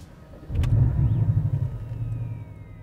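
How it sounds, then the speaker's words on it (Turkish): A 2018 Porsche 718 Cayman's 2-litre turbo engine starts up: a sharp starter catch, then a loud close rumbling flare that settles into a steady, slightly lower idle. "Hemen kontağı açalım ve o enfes sesi duyalım."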